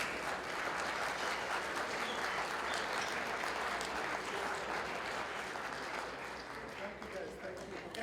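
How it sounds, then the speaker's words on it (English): A large gala crowd applauds steadily and loudly, a dense wash of clapping that holds throughout and fades slightly near the end. "let's give a big round of applause for the achievement of the Arab American Association of Engineers and Architects"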